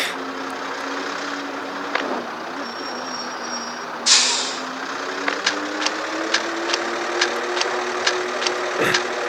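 An old bus in a Public Transport Simulator driving game braking on a descent: a steady engine drone, a loud hiss of air brakes released midway, then a run of regular short clicks and ticks over the engine.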